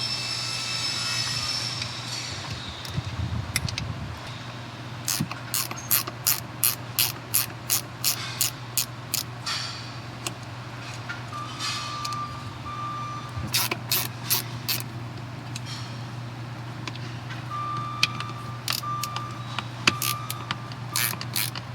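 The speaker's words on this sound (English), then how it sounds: "I'm going to go ahead and loosen these 3 bolts and then pull the whole jack leg off of the bracket." Ratchet wrench loosening 14mm bolts on a Happijac camper jack leg: bursts of rhythmic, close, crisp clicks come in several separate runs over a steady low hum, with no talking.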